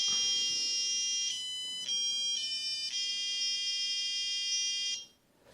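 A paragliding variometer emits a high, shrill electronic beeping tone in a series of pulses, each with a brief dip between them, then cuts off abruptly near the end.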